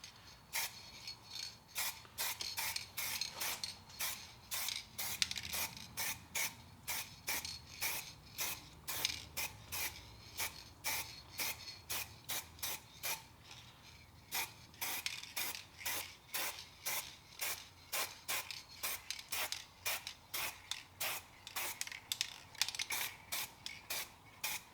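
Spray paint applied to a car's brake calipers while still mounted, heard as a long run of short, sharp hissing bursts in quick, fairly regular succession, close and moderately loud, with a brief pause midway.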